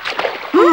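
Someone steps into river water with a brief, rough splash, and a voice then cuts in over the water.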